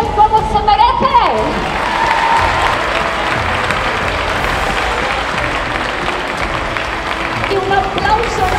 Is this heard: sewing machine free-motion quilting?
no